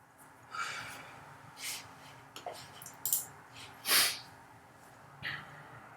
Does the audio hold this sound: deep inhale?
yes